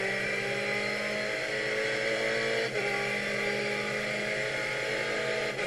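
Ferrari GTE race car engine at wide open throttle on the Nurburgring, a loud, sustained high-pitched roar with steady harmonics as it powers out of a dip, with a brief dip in tone partway through.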